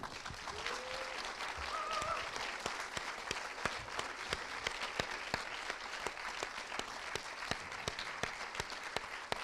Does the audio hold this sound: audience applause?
yes